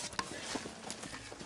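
Horse hooves clip-clop in a few quick, faint, hollow knocks, with a muted background hum and voices nearby.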